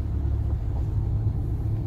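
Heavy trucks rumbling through traffic in an industrial district, a continuous deep, close engine drone with steady low roar and no distinct pauses, no voices over it.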